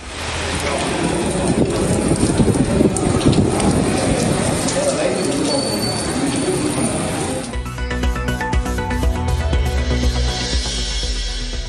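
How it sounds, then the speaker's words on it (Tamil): Heavy rain falls in Madurai and Thiruvadanai, a loud, steady hiss that fills the first several seconds before a music bed takes over. "மதுரை, திருவாடானை பகுதிகளிலும் மழை பெய்தது."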